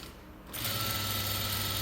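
A sewing machine stitches a blouse lining: after a brief quiet start its motor kicks in and runs at a steady, even whir for the rest of the moment, close and alone.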